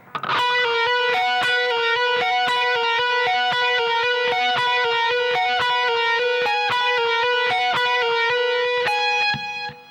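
A distorted electric guitar plays a fast, continuous rock solo in E Lydian, with rapid picked notes and sustained bright tones that stay loud and steady throughout.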